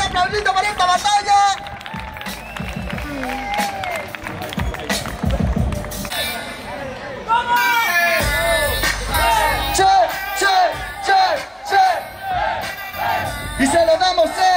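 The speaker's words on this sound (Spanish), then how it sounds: "¡Un aplausito para esta batalla!" A crowd at a freestyle rap battle competition bursts into cheering, whoops and scattered clapping, then a voice talks in Spanish over rhythmic music as the noise continues.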